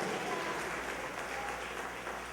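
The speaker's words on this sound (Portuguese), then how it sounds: "Pode dar uma salva de palmas a Ele" A church congregation claps together in praise during a Portuguese-language sermon, a steady, moderately distant wash of applause lasting the whole moment.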